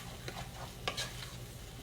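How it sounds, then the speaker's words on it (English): A spoon stirs cheeseburger soup ingredients with broth and au jus in a pot, giving soft scraping and clinking strokes over a faint sizzle, fairly quiet and close. "So I'm going to mix that around really good."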